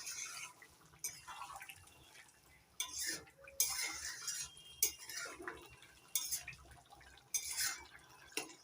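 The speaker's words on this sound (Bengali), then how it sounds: "ঘিটা ভালো করে মিশিয়ে নিচ্ছি।" Ghee being stirred into a thick vegetarian jackfruit curry in a pan, with a utensil scraping and clinking against the metal in uneven bursts, a few soft wet drips between strokes.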